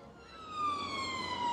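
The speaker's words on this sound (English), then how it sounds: "Oh, we got sirens. It's kicking off in Blackpool. Oh, it's just an ambulance." An ambulance siren in Blackpool wails with a steady falling sweep, moderately distant, holding through the whole stretch with faint road noise beneath.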